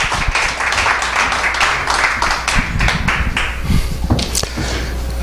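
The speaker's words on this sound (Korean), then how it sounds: "우리 나오실 때 큰 박수 한번 주시기 바랍니다" A crowd at a Korean church revivalists' training gathering claps steadily as a pastor comes up to speak, a dense patter of many hands filling the room at close range.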